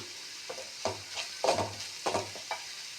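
A spoon scrapes and stirs chili powder in a hot pan in several short strokes, over a faint sizzle, with no voices.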